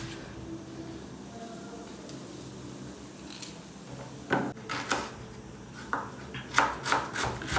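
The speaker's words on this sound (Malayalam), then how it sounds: "നമുക്കപ്പോൾ ഇവിടെയുള്ള ഈ സവാളയും ഇഞ്ചിയും വെളുത്തുള്ളിയൊക്കെ ഒന്ന് അരിഞ്ഞു വെക്കാം" Onion, ginger and garlic being chopped for aloo paratha in a home kitchen: quiet background at first, then a run of sharp, close knife taps on a board in irregular clusters toward the end.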